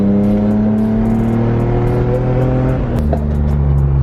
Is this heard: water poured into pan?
no